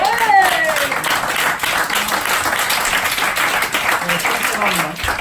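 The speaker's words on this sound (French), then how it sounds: "Oh, on peut les applaudir." Scattered clapping from an audience, building into steady applause, with a voice briefly audible over it.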